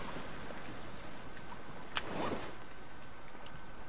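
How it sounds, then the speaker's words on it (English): Repeated electronic beeping alarm from the survival video game Stranded Deep, short bursts of high beeps recurring several times over a steady background hiss, with a brief louder whoosh midway. "And to stop that beeping."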